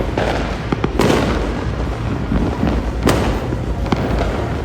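Fireworks bursting during a New Year celebration at a campsite, with loud cracking booms near 1 and 3 seconds over a continuous rumble of distant explosions, no talking.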